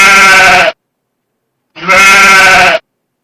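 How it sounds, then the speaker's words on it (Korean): A sheep bleats twice, two loud close wavering calls of about a second each separated by a short silence. "자, 다시 한번 양의 소리."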